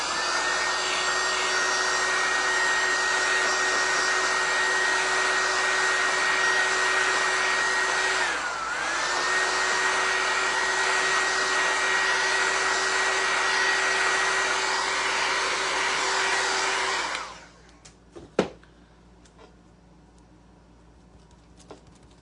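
A hair dryer drying paint on a patriotic shelf-sitter craft runs as a loud, steady close whine for about seventeen seconds, dips briefly partway through, then shuts off and is followed by a sharp knock and quiet handling.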